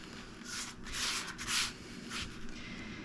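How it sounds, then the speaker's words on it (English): A tool scrapes along a ski edge during tuning in repeated rasping strokes, about four or five bursts of close, dry scraping separated by short pauses. "So I'm actually scraping the edge."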